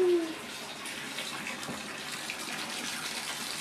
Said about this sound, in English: then I'll turn on the shower